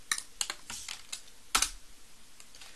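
Fingers type on a computer keyboard in quick, uneven bursts of clicking keystrokes, close and fairly clear, with one louder cluster of strikes midway and no talking.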